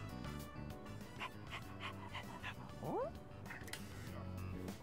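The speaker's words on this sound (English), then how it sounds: "That's a dog." A stray dog in Persona 3 Reload, collared and in bad shape, lets out a brief whining yelp near the middle over steady background music, with faint soft breathy sounds.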